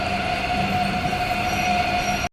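Steady train-interior noise test track for headphone noise cancelling, a constant droning rumble with a sustained tonal whine, loud and unbroken, with no voices.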